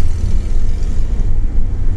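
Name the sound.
air-cooled Volkswagen Type 3 engine running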